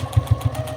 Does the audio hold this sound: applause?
no